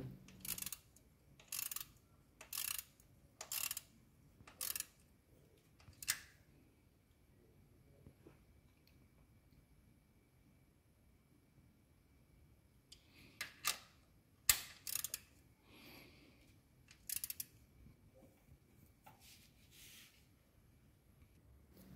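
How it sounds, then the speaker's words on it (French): A ratchet wrench tightens a nut on a Peugeot engine during a timing belt change, with short bursts of crisp, close clicking in quick clusters separated by quiet pauses, faint overall, no voices. "Reste plus qu'à serrer l'écrou."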